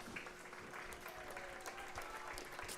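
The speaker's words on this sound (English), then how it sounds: "Gets a nice hand from the crowd." Crowd at a high school football game, a Division 7 Final Four playoff between Northbridge and Cohasset, applauding as an injured player is helped to his feet late in the fourth quarter; steady, distant clapping that runs the whole time.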